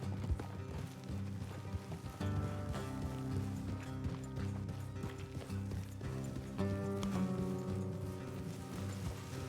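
Steady clip-clopping hooves of a few horses in the video game Red Dead Redemption 2, rhythmic and continuous, layered over a full orchestral music score that stays loud throughout.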